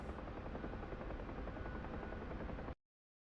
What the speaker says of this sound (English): Is this fucking heli dropping off supplies?